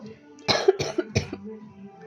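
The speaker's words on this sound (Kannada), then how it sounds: "ಸಾರಿ ಕೆಮ್ಮು ಅಮ್ಮ ಅಡುಗೆ ಮಾಡ್ತಾಯಿದ್ದಾರೆ ಮೆಣಸಿನ್ಕಾಯಿ ಘಾಟು" Three harsh coughs from chili cooking fumes in quick succession, close and fairly loud, with a short throat-clearing sound trailing after them.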